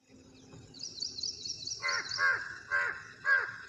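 A crow flying up onto an overhead wire caws four times in an even rhythm, fairly close, over a faint high-pitched bird twitter and low background hum.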